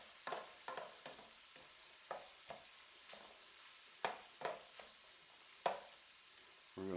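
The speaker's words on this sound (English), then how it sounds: "Stir them around." Green peppers and onions are stirred in a pan, a soft sizzle under a run of regular scraping strokes from a spoon, each stroke a distinct clack, quiet and close, with no talking.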